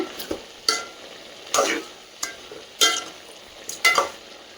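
A spoon scrapes and stirs vegetables frying in a pan for pongal kulambu, with about eight sharp scraping strokes at uneven intervals over a faint sizzle, close up and with no voices.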